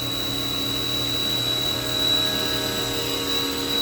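A Haas VF-3 vertical machining center spindle runs at 5,000 RPM with the table moving across, heard from about eight inches away as a steady, even hum with a thin high tone and a slight swell midway, with no talking.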